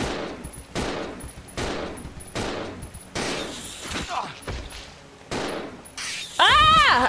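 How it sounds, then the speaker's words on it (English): Resident Evil Zero gunfire comes in repeated rapid bursts, loud and close, with brief gaps between volleys, and a voice cries out at the end. "Just keep shooting, Billy. Don't stop shooting."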